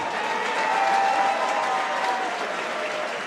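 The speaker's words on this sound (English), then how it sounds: "a big round of applause for both of these outstanding fighters" A fight crowd at a three-round combat sports bout applauds both fighters, a steady wash of clapping and cheering at even volume, heard from within the audience.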